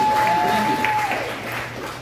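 Comedy club audience at an improv show clapping and cheering for a friend who just became a dentist, a short burst of applause with a whistle and crowd noise.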